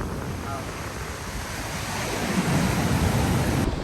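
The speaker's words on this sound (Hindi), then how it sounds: "एक बहुत बड़ी लहर आई है" Ocean surf at Hawks Bay beach in Karachi on a falling tide, with waves surging and washing ashore in a steady roar that swells louder toward the end, mixed with wind buffeting the microphone.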